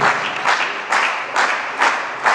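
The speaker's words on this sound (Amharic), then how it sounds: "እባካችሁ እስቲ ሞቅ ባለ ጭብጨባ ተቀበሉልን።" An audience at a stage event welcomes a company's chief executive with warm applause, many hands clapping together in loud, rhythmic swells that rise and fall about twice a second.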